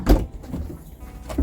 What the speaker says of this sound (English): Yeah, open that door